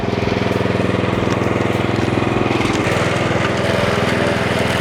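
Firman FWM700-R robotic brush cutter engine running steadily at its slowest speed, a close, loud, continuous droning hum with a slight shift in tone partway through, no talking.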